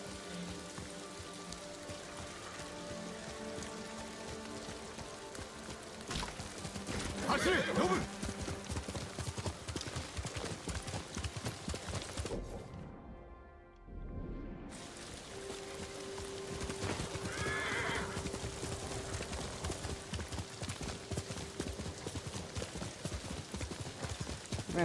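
Horse hooves clip-clop steadily with a couple of neighs in the Ghost of Tsushima video game, set against light rain, with a brief quiet gap midway and no speech.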